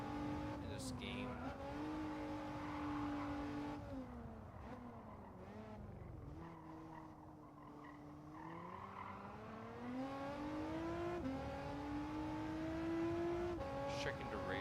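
Engine whine of a race car in a racing video game rises and falls with the revs through wet, rainy conditions on hard tires, a steady loud drone with brief skid squeals.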